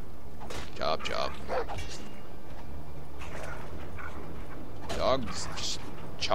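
A dog in the video game Game of Thrones gives a few short barks and yips, mixed with faint creaks from the game and a person talking throughout.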